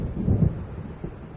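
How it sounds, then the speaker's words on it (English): Low thunder rumbles through a stormy night scene in Alan Wake Remastered, a steady dark roll with a swell near the start and a softer second surge, no voices over it. "It seems there's a storm coming."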